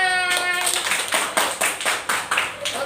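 A classroom group claps together in loosely synchronized bursts. About ten distinct, sharp clap peaks follow in a quick, slightly uneven rhythm, close and fairly loud, with a whistle-like tone at the start.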